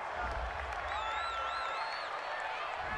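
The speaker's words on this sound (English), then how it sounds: "This home crowd, they're happy with that call." A home stadium crowd in the football video game Madden NFL 20 cheers and applauds after a penalty call, a dense, steady roar with a whistling tone riding over it, under light commentary.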